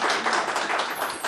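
Short burst of studio audience applause for a singer at a Pakistani singing competition, dense and bright clapping filling the whole moment with no one speaking over it.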